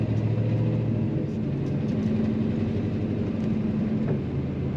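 Low, steady exhaust rumble droning throughout from a moving 1972 Chevrolet Monte Carlo, with a mild engine hum and no talking.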